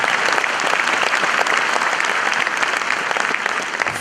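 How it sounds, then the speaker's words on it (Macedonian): Dense, steady applause from a live comedy show audience in the Universal Hall, many hands clapping close together at an even, loud level for about four seconds with no voices on top. "Ајде еден аплауз да не се чувствуваме празни"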